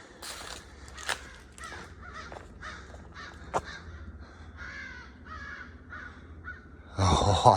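Loud crows caw repeatedly in close succession on the Appalachian Trail near the Smokies, a raucous chorus with a few sharp snaps, ending in a burst of louder rustling noise.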